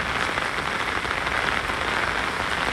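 Steady rain pours down on surfaces at a graveyard, a dense, even hiss that stays constant and loud throughout with no voices.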